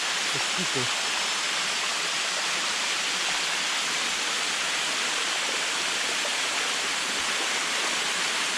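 A waterfall streams over limestone rocks in Thailand, giving a steady, broadband rush of falling water that holds even and close throughout, with a few faint voices briefly audible near the start.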